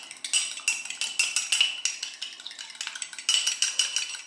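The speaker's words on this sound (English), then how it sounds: "So we're just gonna mix this really well with a fork." A fork beats keto chocolate cake ingredients in a small bowl, giving quick, rhythmic clinking scrapes of metal against the dish, close and bright, repeating steadily throughout with no talking.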